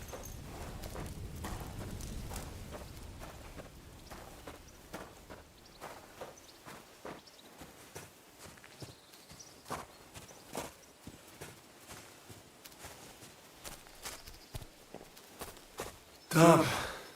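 Horse walking in Kingdom Come Deliverance II, steady clip-clop hoofbeats at a slow pace, moderately close, with a brief loud burst near the end and occasional speech.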